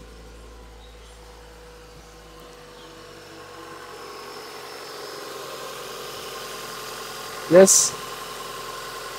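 Honda Accord Maestro engine idling: a steady low hum runs throughout, gradually getting slightly louder, with a brief loud knock near the end and someone speaking briefly.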